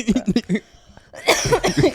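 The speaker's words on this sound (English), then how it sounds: "It's okay. Go ahead, cough." A couple of quick coughs, a short pause, then a louder, rougher burst of coughing, close to the listener.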